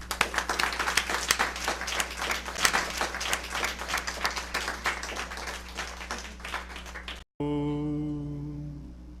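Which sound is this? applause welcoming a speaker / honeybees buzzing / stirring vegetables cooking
applause welcoming a speaker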